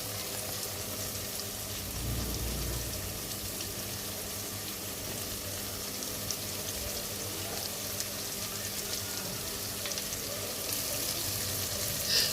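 Chicken frying in a pan with tomato, salt, turmeric and chili powder, giving a steady, close sizzle throughout with occasional soft stirring scrapes and no talk.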